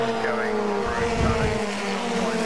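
Historic Formula Ford race cars roar past at Brands Hatch, engines droning and revving together in a steady, loud blend with a rising pass midway, under continuous commentary.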